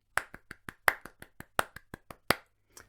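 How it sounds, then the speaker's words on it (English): Hands clap a brisk, even run of quick semiquaver beats, about a dozen sharp claps close by, with a short pause and a last soft pair at the end. "you could try clapping all the semi-quavers"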